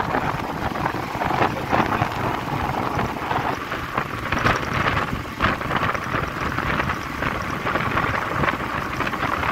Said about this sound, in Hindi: गर्म हवा चल रही है